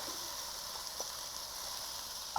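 Ground meat and diced onions browning in a pan, seasoned: a faint, steady sizzling hiss that holds evenly throughout, with no talking.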